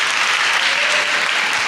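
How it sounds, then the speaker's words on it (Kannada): Loud, dense audience applause at a church Christmas celebration, a continuous wash of many hands clapping with no voices over it. "ಜೋರಾಗಿ ಚಪ್ಪಾಳೆ ಹೊಡಿರಿ."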